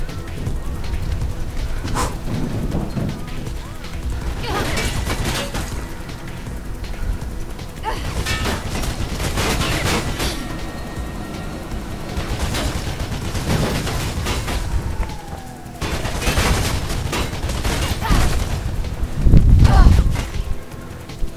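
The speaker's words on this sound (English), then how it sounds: "Stop shooting at me!" Rapid gunfire and mechanical clatter from the first-person parkour game Mirror's Edge, with bursts of shots recurring in clusters over a steady background of game noise.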